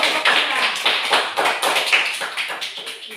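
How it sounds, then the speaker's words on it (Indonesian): Classroom applause for a student group after their presentation, a burst of loud, quick uneven clapping that tapers off toward the end. "Mari kita beri tepuk tangan untuk kelompok"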